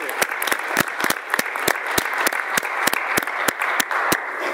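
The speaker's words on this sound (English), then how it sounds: "how about a nice round of applause for all their work" An audience at a middle school board meeting applauds steadily for student artwork on display, a dense wash of many hands clapping throughout at an even, sustained level.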